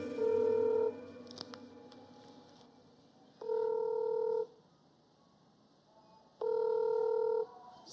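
Ringback tone on an unanswered phone call: three steady electronic rings about a second long, spaced roughly three seconds apart, clear and close with a quiet hiss between them.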